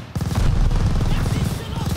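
Enemy machine gun fire in Call of Duty during the Merville 1944 D-Day assault, a rapid, loud, continuous rattling burst right up close, filling the whole moment.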